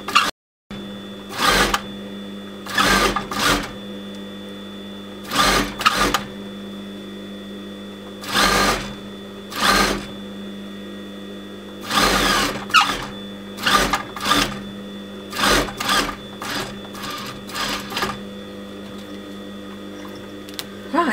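Industrial sewing machine stitching a man's vest, running in about a dozen short whirring bursts separated by pauses, close and steady, with a constant low hum underneath.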